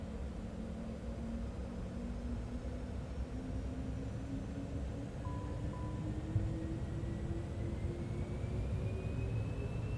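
Cessna Citation X jet in Microsoft Flight Simulator 2024 powering up, a steady broadband engine roar with a slowly rising whine that builds over several seconds, continuous and close.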